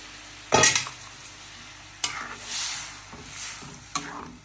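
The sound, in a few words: cooked beans added and stirred into masala in pot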